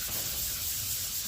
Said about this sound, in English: when you're sanding, you know, you're holding your thing like that